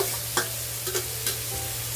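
Chopped tomato goes into a pan of frying ginger and garlic and is stirred, producing a continuous close sizzle with a few sharp scraping clicks from the utensil and a low steady hum beneath.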